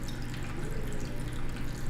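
Water is poured steadily out of a container in one continuous, fairly quiet gush, heard alone without speech.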